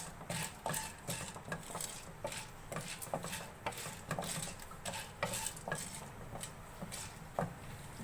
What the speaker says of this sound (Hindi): चम्मच को आपने मुसलसल चलाते जाना है।